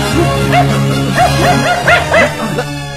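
A dog gives a quick run of high, yipping barks, about six short rising calls bunched together over a steady low hum, fairly close and with no talking.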